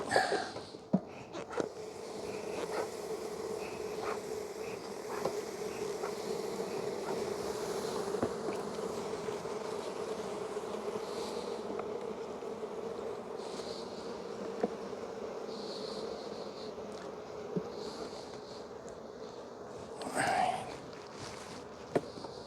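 Honeybees hum in a continuous, dense drone at an opened hive during a spring inspection, close and steady, with occasional soft knocks and rustles from handling the frames.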